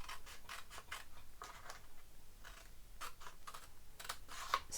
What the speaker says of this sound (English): So we want to cut all the way along this score line and this one